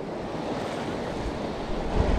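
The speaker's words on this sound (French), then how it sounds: "là il y a le vent commence à tournoyer, ça tourne un peu dans tous les sens" Steady wind roaring at the seashore during a sea bass fishing outing, a continuous close rush of gusts and surf with no voices.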